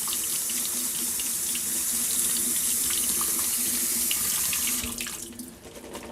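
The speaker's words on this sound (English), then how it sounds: "And I shake it around so the water gets around." Tap water runs steadily into a sink as food is rinsed in a strainer, a loud, continuous broadband splash that cuts off and fades near the end, with no voices.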